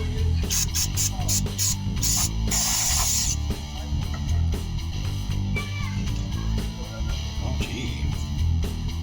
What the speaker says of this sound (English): wire brush, and then of course some brake cleaner to clean everything up